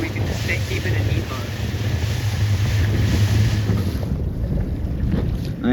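Strong, steady wind roars across the microphone aboard a 29er racing dinghy during a US Open regatta, with water rushing and slapping against the hull in a loud, continuous blustery wash.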